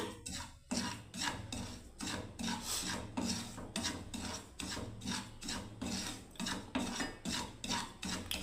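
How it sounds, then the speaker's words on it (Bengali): Semolina dry-roasts in a pan while being stirred, giving a steady train of dry, raspy scraping strokes that repeat rhythmically, close and fairly loud with no talking. "প্রথমে সুজিটাকে বন্ধুরা দেখুন ভেজে নিচ্ছি ভালোভাবে।"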